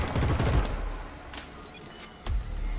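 Turret gunfire in the Killzone Shadow Fall shooter comes as a rapid burst of shots at the start. It fades into quieter combat noise, then a second loud burst follows near the end.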